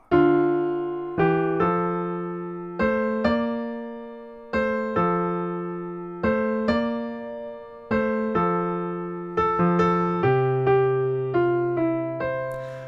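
Solo piano plays the main riff of a song, a repeating melody with bright struck chords in a steady rhythm, each note decaying before the next, clear and close.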